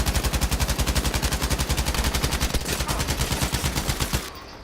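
A rapid burst of automatic gunfire empties a full magazine in the video game Battlefield 5, loud evenly spaced shots over about four seconds before stopping abruptly.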